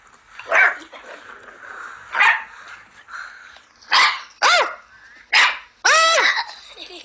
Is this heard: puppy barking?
yes